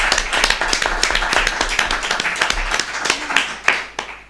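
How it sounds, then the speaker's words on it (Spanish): Audience applause at a book presentation, a dense steady clapping from a room full of people, loud and continuous throughout with a few sharper individual claps near the end. "Un aplauso para ella."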